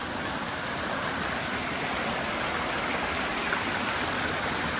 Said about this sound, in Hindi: ओके सो वो देखो ऊपर से पानी आ रहा है, एक वहाँ से और एक इधर से, पत्थरों के बीच ही में से आ रहा है।